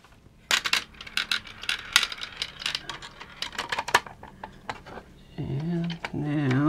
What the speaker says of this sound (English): You gotta put the balls in there first.